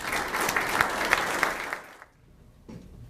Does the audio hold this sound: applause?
yes